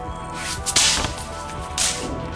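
Pop-pop snapper firecrackers thrown onto a flat surface, two sharp cracking snaps about a second apart, loud and close, with no talking.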